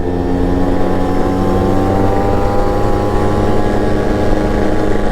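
A Yamaha RXZ motorcycle with a chamber exhaust drones loudly and steadily while riding, its engine note holding an even pitch throughout with no speech.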